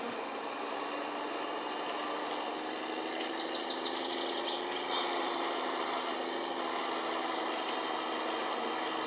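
A car engine hums steadily in the video game My Summer Car, a constant mid-pitched drone with faint rattling, moderately loud and unbroken, with no voices.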